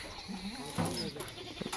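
Goats bleat briefly at moderate distance amid outdoor ambience at a goat farm, with a few short calls and scuffling.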